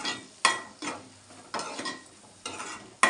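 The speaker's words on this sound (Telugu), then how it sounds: "రొయ్యలు వేగుతున్నాయి." Prawns sizzle and fry in hot oil in a pan for a curry, with soft crackling punctuated by several distinct scraping stirs of a utensil at a slow, uneven rhythm, fairly quiet and close.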